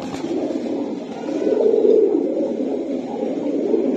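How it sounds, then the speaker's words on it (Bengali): Cobra breed pigeons cooing in a loft, a steady low throaty burble that continues without a break and swells slightly partway through, with several birds blending into one murmuring drone and no voices. "ভাই এটা কি জাতের কবুতর?"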